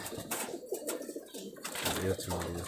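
Geribaj pigeons coo at close range in soft, repeated throaty calls, with a voice talking over them.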